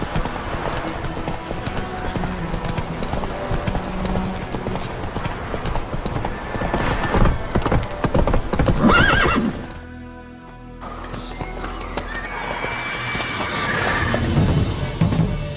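Horse hooves clip-clopping at a gallop with loud neighing in The Witcher 3 open-world game, mixed with game ambience and a short quiet break before the hoofbeats resume.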